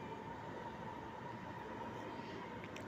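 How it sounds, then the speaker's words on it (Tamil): A Singapore MRT metro train passes near an apartment block, heard as a faint, steady distant rumble with a constant hum, and no voices in the moment. "இங்கே வீட்டுக்கு மேலே இருந்து பார்த்தாலே மெட்ரோ ட்ரெயின் எம்ஆர்டி போகிறது தெரியும்"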